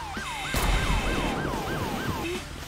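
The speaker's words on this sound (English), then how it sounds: "here comes the ambulance" Ambulance siren in the GTA 5 video game wails in a steady repeating rise-and-fall cycle, loud and close, with a burst of engine and road rumble underneath as the vehicle arrives.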